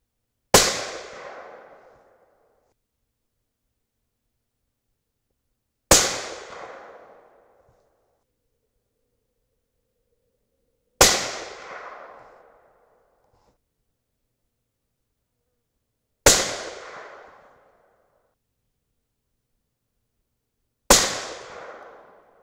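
Five suppressed 6.5 Creedmoor rifle shots at an outdoor range, each a sharp loud crack with a short decaying tail, spaced about five seconds apart with silence between and no talk.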